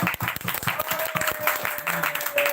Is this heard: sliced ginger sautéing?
no